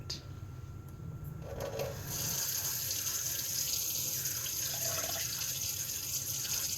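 Cold water gushes steadily from a faucet opened a quarter turn into a sink, a constant splashing hiss that grows fuller after a brief softer start.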